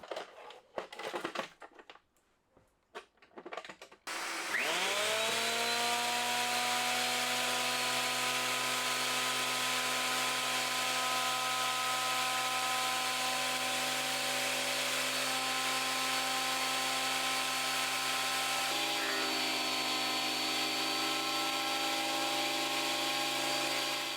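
A Clarke CPT800 204mm planer thicknesser set up in thicknessing mode starts with a few handling knocks, then its motor spins up into a loud, steady whining drone that runs continuously, shifting slightly in tone partway through as wood is fed.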